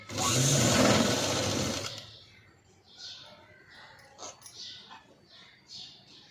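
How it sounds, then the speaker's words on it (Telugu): A sewing machine stitching a padded blouse whirs loudly and steadily for about two seconds, then stops. Faint, scattered whimpers and yips follow. "ఇలా సెట్ చేసుకుంటూ 1/2 ఇంచ్ లెంత్లో నీట్గా స్టిచ్ వేసుకోవాలి"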